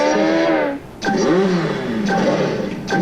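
A car engine revs in short bursts in a video game's vehicle selection menu, each loud rev rising and falling as the choices change, with brief gaps between them.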